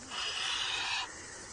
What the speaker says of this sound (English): I love hearing those cicadas up in the trees.